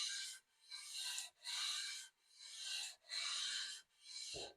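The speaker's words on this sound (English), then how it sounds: "Not putting much pressure on it, just letting the sandpaper do its job." Hand sanding of wood with sandpaper under light pressure: six broad, hissing strokes in a steady back-and-forth rhythm, each lasting under a second with short gaps, close and fairly quiet, with no voices.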